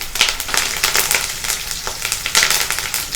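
Garlic, cumin, green chillies and curry leaves frying in hot oil for chicken 65, a steady close crackling sizzle with bright spitting pops that swell and ease as the pan is stirred.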